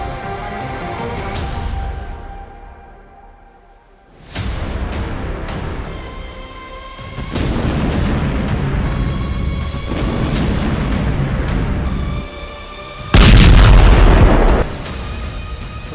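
Israeli strikes in Lebanon set off a series of heavy, deep booms, some rumbling out and one big blast near the end, all over a steady droning tonal background.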